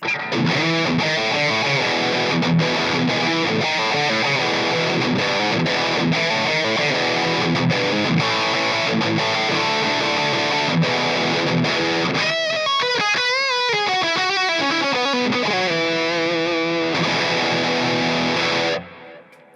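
Electric guitar with humbucker pickups played through a clean-to-crunchy amp, a run of strummed chords followed by melodic single-note lines, with the final notes ringing out before stopping.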